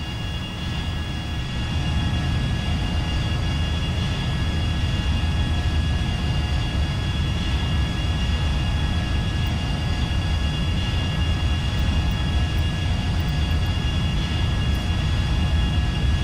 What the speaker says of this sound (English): That's the airplane at full speed.